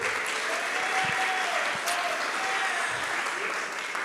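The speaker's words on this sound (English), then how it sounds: "Clap your hands." An audience at a hackathon prize announcement applauds steadily, a continuous close wash of clapping lasting several seconds, with some voices faintly audible through it.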